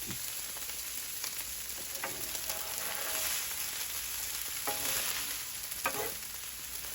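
Pork fried rice sizzles loudly in a pan as a utensil lightly stirs and separates the grains, a constant frying hiss with intermittent scraping strokes and no talking.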